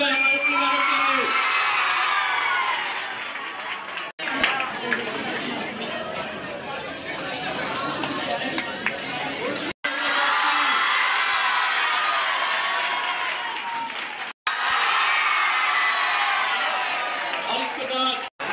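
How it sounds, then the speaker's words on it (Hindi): Schoolchildren at a high school opening ceremony for a smart digital board clap and cheer loudly in long bursts, with shouts and chatter mixed in and brief breaks between the rounds. "बच्चों एक बार जोरदार ताली हो जाए हमारे के लिए।"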